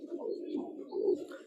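A Makra Baga Silver pigeon with muffed feet in a loft, giving soft, low throaty cooing in a few short rolling bursts, close and quiet.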